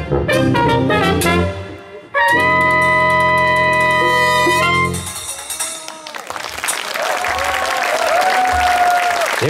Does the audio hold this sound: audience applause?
yes